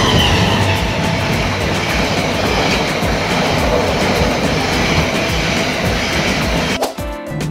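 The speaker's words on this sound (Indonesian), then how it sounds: "karena akan disalip kereta api Brawijaya ya." The Brawijaya passenger train rumbles past close by in Indonesia with a steady, continuous roar and rattle, filling the whole stretch before briefly easing near the end.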